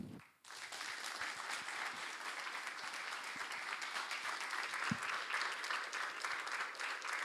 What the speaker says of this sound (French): J'aimerais que vous applaudissiez l'ensemble des collaborateurs de Commodo qui font du super boulot